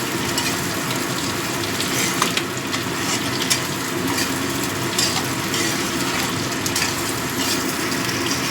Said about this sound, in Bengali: এবার দিয়ে দিচ্ছি, আলু আর পেঁয়াজটা ভাজা হয়ে গেছে